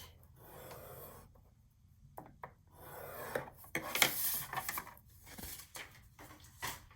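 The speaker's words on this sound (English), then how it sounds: "Okay, so just score it at 1/2 inch." A score tool drags along paper to crease a line half an inch in for a pocket album, giving soft rasping strokes in several bursts separated by pauses, close and moderately quiet.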